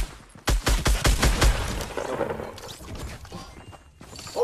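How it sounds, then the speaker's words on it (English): Fortnite Battle Royale gunfire crackles in a rapid burst of about eight close, sharp shots within the first second, followed by quieter scattered game noises and distant rumble. "He's shooting me!"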